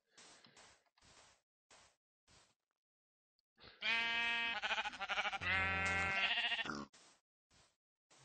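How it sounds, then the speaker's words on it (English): Sheep in a video game bleat in a series of loud, wavering cries in the middle, with short faint clicks and thumps before and after. "Go away, sheep."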